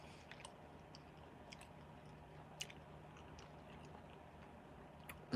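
Someone chews fresh, tender cranberries up close, making faint, soft, moist chewing sounds over a quiet room hum.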